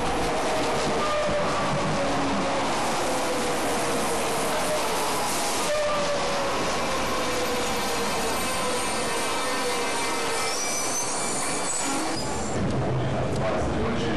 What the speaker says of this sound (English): So this is the metro, the underground, which will take us to Burgo.